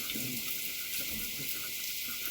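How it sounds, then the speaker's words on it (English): Steady rain falls as a dense, continuous hiss, close and constant, with faint low sounds beneath it. "I'm really surprised at this rain."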